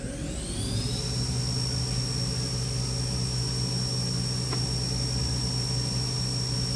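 Haas VF-1 CNC vertical machining center, a 2008 20 hp machine, with its spindle spinning at a top speed of 7,500 RPM: a steady, loud, high whine with a constant mechanical hum, no speech.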